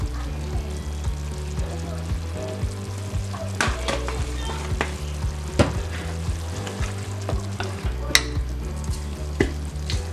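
Veggie mince with cumin, water and ketchup sizzles in a pan as it is stirred and scraped, a steady, close frying sound with occasional sharper clinks.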